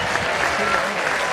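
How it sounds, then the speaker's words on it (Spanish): Brief burst of audience applause on a comedy show, a continuous wash of clapping, loud and even, with voices mixed in. "Un aplauso para Pepe."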